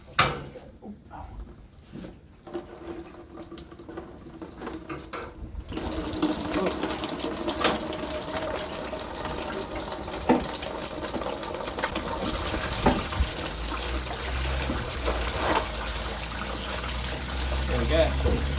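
Coolant water drains out of a car radiator in a steady trickle and splash that starts after a few seconds of quieter clinking and continues under occasional clatter of tools.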